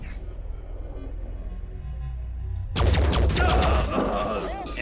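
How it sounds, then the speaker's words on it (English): Gunfire in the video game Phoenix Point as a soldier shoots down a Berserker: a low rumbling hum gives way to a loud, rapid burst of crackling shots that stays dense and sharp to the end. "Maybe I should just gun down the Berserker."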